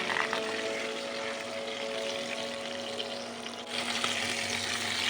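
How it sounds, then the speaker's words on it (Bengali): Whole chicken frying in oil for murgh musallam, a continuous loud close sizzle with bubbling crackle and a brief dip as the pan is handled. "এপিট ওপিট ভালো করে ভাজবো"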